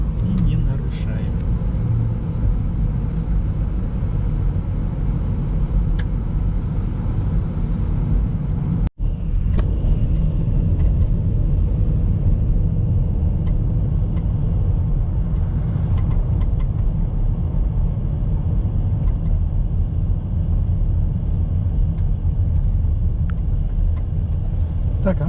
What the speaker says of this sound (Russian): едем потихонечку, никуда не торопясь, потому что зима